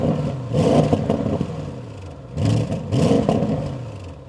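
A 2024 Audi RS6 GT petrol engine with a particle filter revs in short, sharp blips that rise and fall, two quick bursts close together with a brief lull between them.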